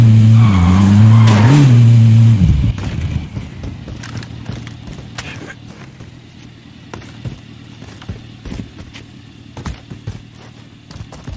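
A vehicle in the Call of Duty Warzone video game drives off with a loud engine roar that drops away after about two seconds, followed by rumbling motion and scattered clicks and knocks.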